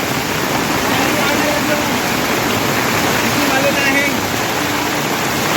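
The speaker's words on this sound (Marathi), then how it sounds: "हा वॉटरफॉल किती पाणी आहे" A heavy, steady roar of a jungle waterfall in full spate mixed with the broad hiss of pouring monsoon rain, loud and continuous throughout with no pauses.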